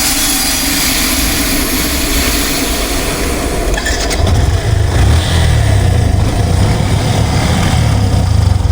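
Cartoon sound effect of a strange motorbike engine in a jungle scene: a steady mechanical drone first, then a louder, deep roaring engine rumble that holds to the end, with no speech.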